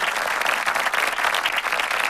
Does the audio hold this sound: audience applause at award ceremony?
yes